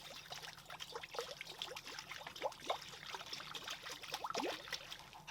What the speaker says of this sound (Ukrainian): У казан наливаю воду